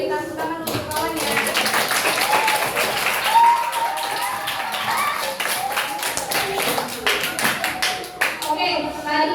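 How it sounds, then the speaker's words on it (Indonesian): Children in a classroom clapping for a classmate, a brisk burst of many small hands close by, mixed with children's chatter and voices throughout. "beri tepuk tangan untuk kawan ya"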